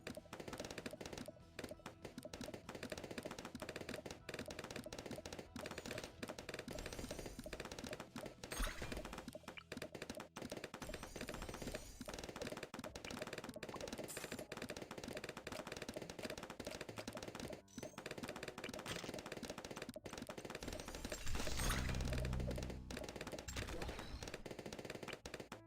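Sniper towers fire in the Bloons TD Battles 2 video game, a dense, continuous rattle of rapid game gunfire and thunks packed with game sound effects from start to finish.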